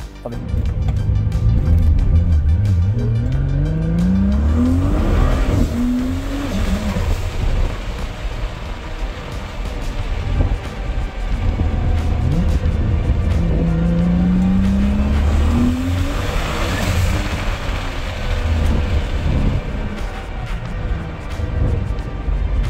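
A Nissan GT-R tuned to 2200 horsepower drives past hard and loud. Its engine climbs through two long, rising accelerating sweeps, with gear shifts between them and a constant roar throughout.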